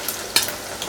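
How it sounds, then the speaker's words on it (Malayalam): Okra frying in hot coconut oil: a steady close sizzle with a brief louder crackle burst near the middle, no talking. "വെളിച്ചെണ്ണയിലാണ് നമ്മളിത് വറുത്തെടുക്കുന്നത്"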